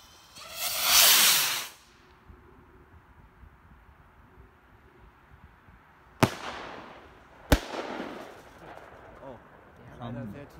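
Funke Super-Gemini double-bang firework rockets: a loud whooshing launch hiss, then a pause before two sharp separate bangs about a second apart, with faint crackling afterward and people talking in German.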